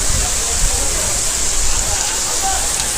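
Irachilpara waterfall in Marayoor, heard from a spot right behind the falling water: a steady, dense close roar of cascading water filling the whole clip, with faint voices mixed in.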